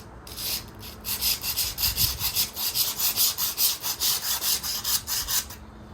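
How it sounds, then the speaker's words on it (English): A jointed scraper drags across porcelain tiles, lifting off epoxy grout in a steady run of about twenty rhythmic rasping strokes, close and clear with no talking. "I've got my jointed scraper, and scrape it off."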